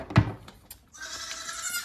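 A goat in a barn lets out a sharp, short bleat, followed by soft clatter and a faint, higher bleating cry from the animal near the end.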